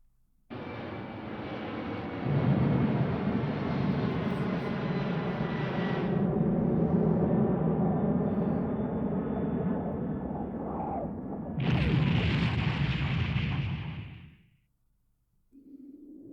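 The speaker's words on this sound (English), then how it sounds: "there's that plane crash I was alluding to" Airplane in the Remember 11 visual novel game, a loud sustained engine roar building and holding, then a sharp burst of noise near the end as the plane crashes, fading to quiet.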